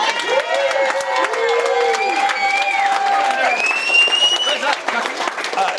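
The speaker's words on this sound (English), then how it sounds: "And a round of applause for Ness, please." Wedding guests at the speeches applaud and cheer loudly, with clapping running under rising whoops and voices throughout, close and lively.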